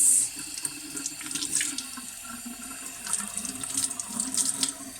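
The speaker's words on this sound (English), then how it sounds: "And wash the knife. Okay, just give it a little rinse." Kitchen tap runs steadily while a knife is rinsed beneath it, a continuous close splashing hiss with small shifts as the blade moves through the stream.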